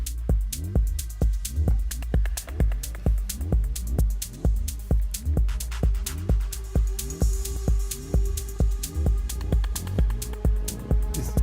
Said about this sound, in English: the Hypnotic Techno drums